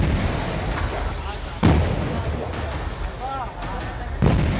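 Two heavy booming blasts roughly two and a half seconds apart from gas cylinders exploding one after another at an illegal refilling shop fire in Gonda, with a voice talking throughout.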